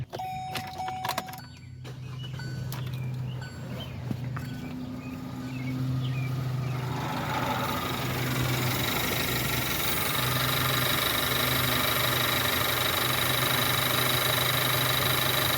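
A car with no air box fitted cranks briefly over some clicking, then fires up and settles into a steady, rough idle that grows louder and fills the space with a constant hum and rattle.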